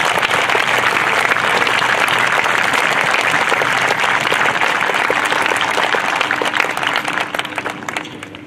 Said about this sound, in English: Please join me in giving these boys a well-deserved round of applause.